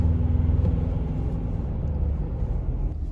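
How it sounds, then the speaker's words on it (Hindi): A Ford Endeavour accelerating in fourth gear in snow/mud/grass mode gives a steady, loud low engine rumble with a slight drone that holds throughout. "मैं एक्सेलरेट करता हूँ तो आप देखते हैं कि वो 4th गियर में ही कितना पुश कर रही है खुद को"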